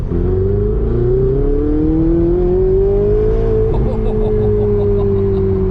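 A Ferrari 488 Spider's turbocharged engine drones loudly and steadily, pitch slowly climbing under acceleration, then easing slightly with a brief flutter near the end.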